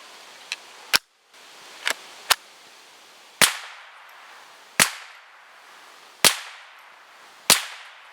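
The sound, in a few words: gunshots fired at Pigeon Perch target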